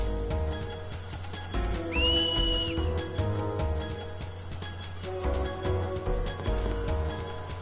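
A two-tone finger whistle in Final Fantasy X, a long rising then steady shrill note that cuts in loudly over the game's background music.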